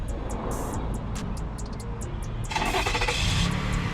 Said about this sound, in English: as you can see, the car definitely starts